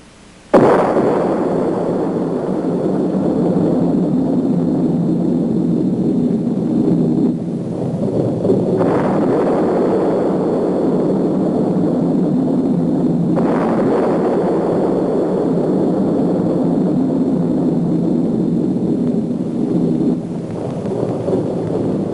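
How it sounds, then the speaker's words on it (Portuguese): A massive atomic bomb explosion roars out as a sustained, loud rumbling blast, with further surges of booming noise rolling on throughout. "A primeira explosão atômica chocou o mundo."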